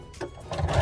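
A domestic sewing machine runs in a short back-stitch burst while overall pants are sewn, its motor whirring and needle tapping rapidly, growing louder toward the end with no talking.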